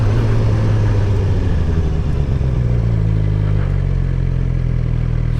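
A motorcycle engine running loud and close while a beginner rider moves off in second gear, a continuous rough mid-pitched drone that shifts slightly in tone partway through, with no talking.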